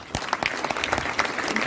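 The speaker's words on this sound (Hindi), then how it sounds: "डाउनलाइन के लिए ठोको ताली।" Audience applause at a business motivational gathering, a dense burst of many hands clapping close and loud, continuing steadily for under two seconds.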